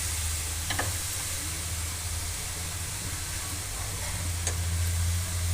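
Grated carrot frying in ghee for carrot halwa gives a steady, soft sizzling hiss, with a few faint scraping clicks of stirring.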